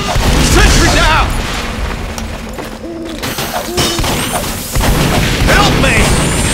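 A sentry gun in Team Fortress 2 is destroyed amid a chaotic match, with booming blasts and crashing impacts under ongoing combat noise and shouted voice lines.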